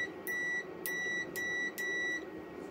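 Four short, clean electronic beeps at an even pace, each a sustained high tone from a multimeter continuity test on a rewound generator stator, sounding close over quiet background noise.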